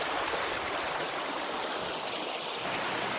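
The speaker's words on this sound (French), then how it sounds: "admirons ce beau petit ruisseau qui s'écoule tout en cascade et va se reposer dans un petit bassin" A small stream cascades down into a little basin, a loud, close, continuous rushing and splashing of water with no other sounds.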